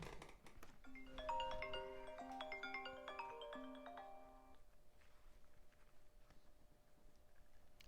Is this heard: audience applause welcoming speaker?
no